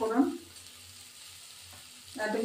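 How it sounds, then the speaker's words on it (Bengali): Radhuni seeds tempering in hot oil for a Bengali bata fish curry sizzle loudly at first. The frying then settles to a quieter hiss and surges again at the end, close by with no talking. "একটু রাঁধুনি ফোড়ন দেবো"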